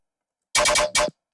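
Distorted dubstep bass sounds, processed together, hit as a loud, harsh burst of three quick stuttering pulses, a brief gap, and one more pulse, with silence before.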